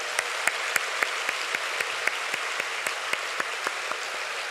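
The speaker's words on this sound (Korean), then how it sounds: "우리 청년들 향해서 박수하죠" Steady applause fills a Friday night church worship service, dense congregational clapping carried by an even rhythmic beat, sustained throughout without speech.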